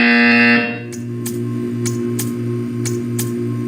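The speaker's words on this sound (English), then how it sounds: "You will hear a buzzer." A loud, steady electronic buzzer drones in the Portal 2 video game and then cuts off. A low hum keeps going after it, with regular sharp ticks repeating about every half second.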